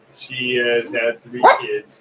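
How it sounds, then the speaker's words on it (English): An old female dog named Lady barks a few times at close range, the sharp yaps mixed in with someone talking over them. "That's my dog barking."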